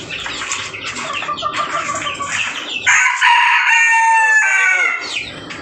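Chickens on a village poultry farm cluck steadily close by, then a rooster lets out a loud, drawn-out crow over the flock's chatter.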